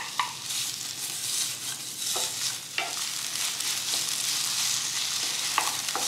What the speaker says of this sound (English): We're gonna put a little oil in our pan. And we're gonna start cooking that onion that we sliced.